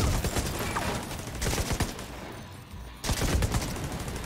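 A deployed automated turret firing in The Division 2, rapid bursts of gunfire crackling densely with a short pause, then the shots resuming loud and close.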